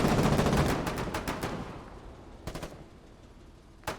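Gunfire in the war game Foxhole on a colonial frontline, a dense loud burst of rapid shots that thins out, then a few isolated sharp cracks later.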